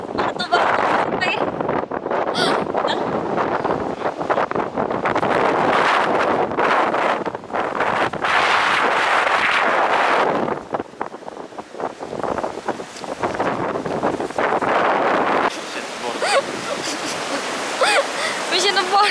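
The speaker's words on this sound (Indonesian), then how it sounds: "angin dan batu-batu." Strong wind blowing across rocks and sand outdoors, a loud, roaring gusty rush buffeting the microphone throughout, rising and dipping in waves, with people talking over parts of it.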